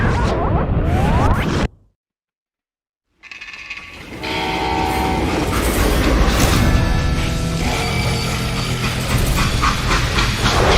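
A freight train in the Western video game Call of Juarez Gunslinger rumbles loudly and steadily, cutting briefly to silence before returning as a continuous rolling drone of wheels and cars.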